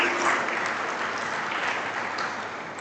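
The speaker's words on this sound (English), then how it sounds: "So I want you all to clap a big round of applause for all dignitaries and all the new members of VGI." An audience at a college orientation programme claps together in a dense, even round of applause that holds steady and fades slightly toward the end.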